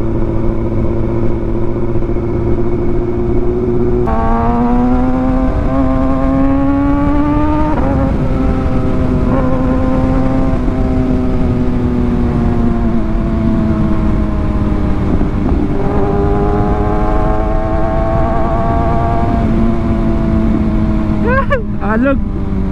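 A Suzuki JSX-R 150 motorcycle engine runs on a mountain ride, a loud continuous drone whose pitch rises and falls with throttle and gear changes, with occasional talk over it.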